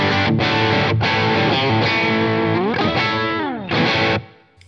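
Schecter Nick Johnston electric guitar on its split humbucker pickup, played through effects with distortion and chorus, ringing chords and a gliding bend in one loud, continuous phrase, with no talking.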